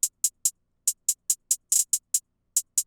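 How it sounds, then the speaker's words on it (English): A basic 2-step hi-hat pattern in a rap beat: crisp, bright ticks with deliberate gaps and an occasional quick double hit, sounding thin, close and isolated with no other instruments or voices. "we have the hi-hat pattern, which is super basic. It's gonna sound like this."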